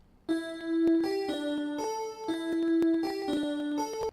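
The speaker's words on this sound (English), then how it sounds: "kind of just sounds like an echo." A short melodic phrase of bright tones, each note doubled by a slightly delayed copy that smears into a close echo, played alone.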